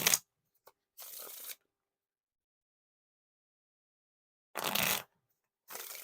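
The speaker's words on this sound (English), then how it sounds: "Now time for the riffle shuffle or bridge shuffle." A deck of playing cards is riffle shuffled, with short crisp fluttering bursts separated by silent pauses, close up and fairly quiet.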